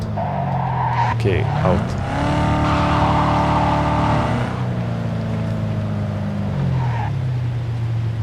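A car being driven in the video game Cyberpunk 2077, a loud engine hum that rises and falls with throttle, brief screeching slides, and a short spoken remark early on.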